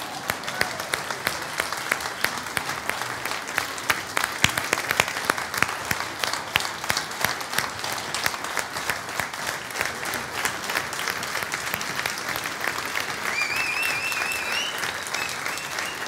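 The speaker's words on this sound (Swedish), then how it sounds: "Så ge de största applåderna till just min mamma här." A stage audience at a talk applauds warmly and continuously for a long stretch, dense loud clapping that stays steady, with a few brief whistles near the end.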